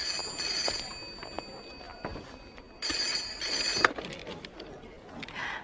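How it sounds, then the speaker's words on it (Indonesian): A telephone rings in an office in two bursts of bright, high electronic trilling separated by a short pause, fairly faint against a quiet room. "Telepon berdering, angkatlah."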